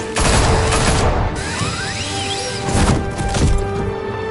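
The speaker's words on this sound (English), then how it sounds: "Shoot him!" Gunfire aimed at Batman in a Gotham action scene: dense, continuous bursts of shots and booming impacts, loud and close, with clattering and a whooshing sweep through the middle.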